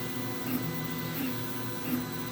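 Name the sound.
VzBoT 3D printer with experimental hotend printing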